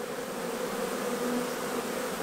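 A swarm of bees fans its wings, a steady, close, droning buzz with a faintly wavering pitch, continuous and unbroken, with no voices over it.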